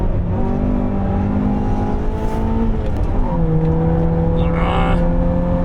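A light Honda CRX on the Nürburgring accelerates hard, its engine note climbing through the revs, dipping at a gear change and pulling again, loud and close from inside the car.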